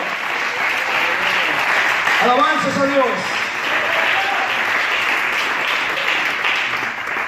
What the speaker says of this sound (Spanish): Denle un aplauso muy fuerte al Señor.